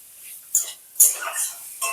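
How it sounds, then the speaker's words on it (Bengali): Papaya is stirred with spices in a cooking pan, a few sharp metal scrapes and clanks of a spoon against the pan, close and spaced out, with soft sizzling between them. "পেঁপেটা একটু ভালো করে মশলার সঙ্গে মিশিয়ে নেব। আবার একটু ভালো করে নাড়াচাড়া করে নেব।"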